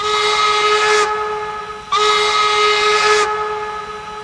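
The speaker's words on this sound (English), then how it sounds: "The spare whistle was fitted." Spare steam train whistle on a cartoon railroad, blown in two long, loud, steady hissing blasts with a short gap between them, alone without talk.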